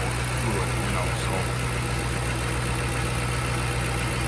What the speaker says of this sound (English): you hear that little whining? I'm guessing that's the power steering pump.